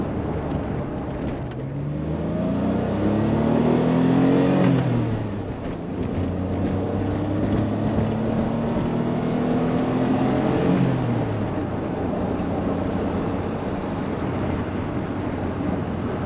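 A DeLorean DMC12 being driven, its engine droning steadily under road and wind noise from inside the cabin, with two slow rev rises and gear changes.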